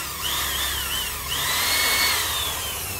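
An electric hammer drill with a 10 mm chuck, rated 350 W, runs steadily with a high whining motor, spinning up in two bursts, close and fairly loud.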